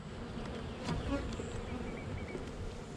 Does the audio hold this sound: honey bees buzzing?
yes